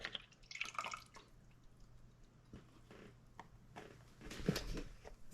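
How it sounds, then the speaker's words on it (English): Two cups of heavy whipping cream poured into a small pan on a stovetop, a faint, quiet trickle and drip of liquid with a few light splashes. "Then you're going to add your 2 cups of heavy whipping cream."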